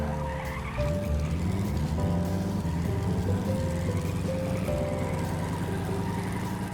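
A homemade four-wheel-drive diesel car in the game Stormworks drives with a steady, loud engine drone, as sustained tire-squeal tones rise and fall repeatedly across the run.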